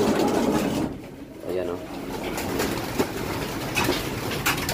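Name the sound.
club racing pigeons cooing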